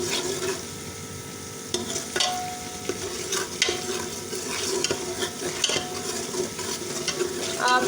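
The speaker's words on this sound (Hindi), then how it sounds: "अदरक लहसुन के साथ हम सब्ज़ी मिर्च को जो है फ्राई कर देंगे।" Chopped green chilies frying with ginger and garlic in a pan, a steady sizzle broken by repeated scrapes and clinks of a spoon stirring against the metal, with no talking.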